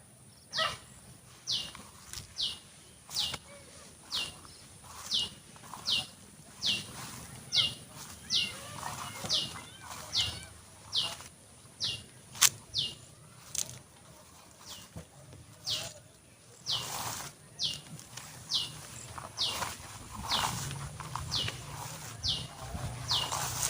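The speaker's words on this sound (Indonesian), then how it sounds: "Suaranya antik ya kalau di tengah hutan itu. Burung berkicau." Birds call deep in a forest, one bird repeating a sharp chirp at a steady rhythm about once a second, with softer calls and faint background sounds between.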